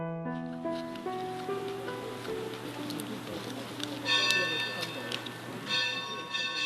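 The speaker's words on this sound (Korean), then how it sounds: "그랜드 캐년의 숲속에 종소리가 울려 퍼집니다." A church-like bell rings out repeatedly through a forest at the bottom of the Grand Canyon, its clear tolling strokes resonating and overlapping, with a soft rustle of outdoor ambience beneath.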